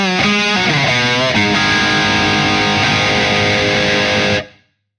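An electric guitar played through a Carl Martin Panama Overdrive pedal with the gain pushed up gives a loud, defined, driven lead tone. A few picked notes ring into sustained chords, then the sound cuts off sharply.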